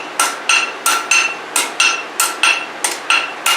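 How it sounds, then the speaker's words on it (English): A blacksmith's hammer strikes alternately on the anvil and on hot steel in a steady working rhythm, giving about a dozen bright, ringing metallic taps, close and loud, with no talking. "I sometimes tap the anvil and then tap the steel"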